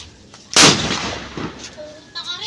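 Homemade boga cannon fueled with acetone, a single loud close blast that fades over about a second, followed by faint voices.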